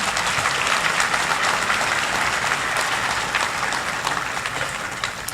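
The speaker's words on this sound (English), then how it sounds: "Let's give Dr. Lyon one more round of applause." Audience applause at a Salute to Healthcare 2018 gathering, a dense, loud, steady clapping from a large crowd that holds for several seconds and tapers slightly at the end.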